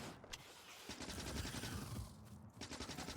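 Rapid bursts of shotgun fire in the Factorio video game, several sharp shots in quick succession over a busy game background, with no talk.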